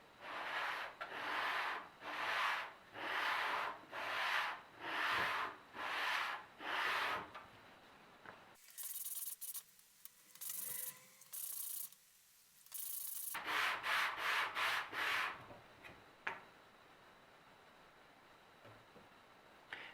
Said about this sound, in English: So we can use the sandpaper to just even out poor cuts.